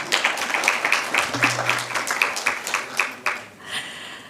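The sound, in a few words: audience applause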